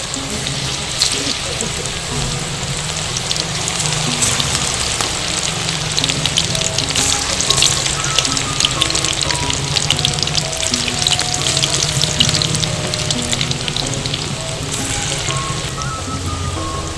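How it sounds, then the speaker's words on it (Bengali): Pea bondas frying in hot oil in a kadai over a stove, a steady loud crackling sizzle that carries on evenly throughout, with no talk over it. "তেল গরম হয়ে গেছে, আমি এবারে ভেজে নেব।"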